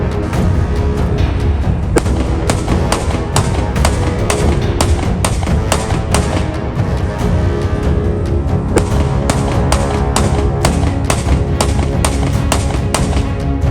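Repeated sharp bangs crack out in a fast irregular series over a constant loud background rumble, gunshots fired at a house and captured on CCTV.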